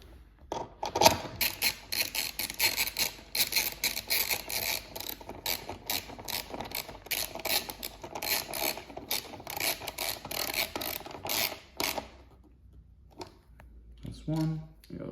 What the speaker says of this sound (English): Grab your 10 mil with those two bolts that we removed, and they go in these two locations here